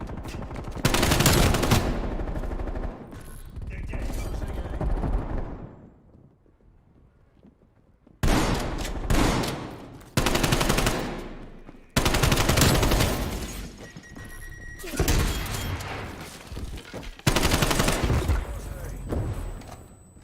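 Gunfire in a shooter video game, loud sustained bursts of rapid automatic fire broken by short gaps and a longer quiet stretch, close-miked and harsh.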